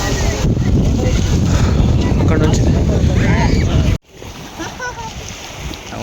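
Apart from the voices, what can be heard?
strong wind blowing at a bridge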